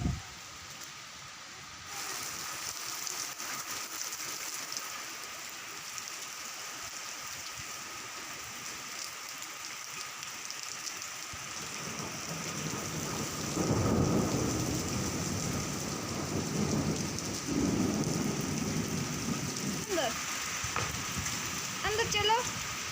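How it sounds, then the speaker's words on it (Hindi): Heavy rain pours outdoors near a house with rumbles of thunder, the downpour steady and growing louder, with low rolling thunder swelling in the second half; voices can be heard briefly over it. "अंदर चलो, बारिश लगी।"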